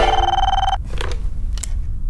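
An office telephone rings for an incoming call, one sustained electronic ring burst up front, then stops, followed by a few soft clicks and handling noises; no speech.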